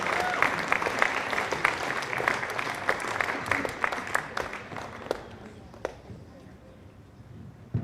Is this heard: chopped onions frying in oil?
no